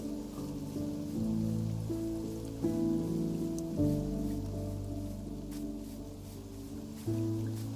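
Rainfall in a realism-modded Minecraft world pours down as a constant soft hiss, close and unbroken, with sustained musical tones drifting underneath the whole time.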